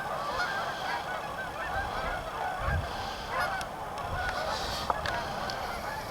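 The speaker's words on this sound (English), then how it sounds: "Lots of geese congregated as usual here in this area by the rapids." A large flock of geese gathered by the rapids on a freezing day honks continuously over the steady rush of water, moderately distant.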